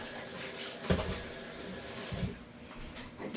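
A kitchen sink tap runs water over a cheese grater used for Parmesan Reggiano, a close, rushing wash with a couple of knocks that stops abruptly partway through, leaving a quieter tail.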